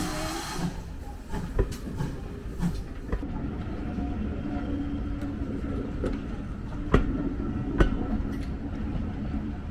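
A full-size locomotive train passes near Parkend Station, a continuous loud rumble and hiss with occasional sharp clanks and rail clicks, close by and without talking.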